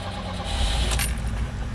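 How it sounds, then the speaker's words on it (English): A Lada car engine catching and running, a low, rumbling idle close by with a brief bright metallic jingle partway through, loud and steady across the short span. "you hear that motor?"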